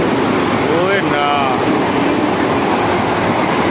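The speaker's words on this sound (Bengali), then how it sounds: "গাইস এক্ষুনি বন্দে ভারত এক্সপ্রেস গেল।" A Vande Bharat Express train rolls past with a loud, steady rumble and a brief wheel squeal or horn-like whine early on, while voices are heard over it.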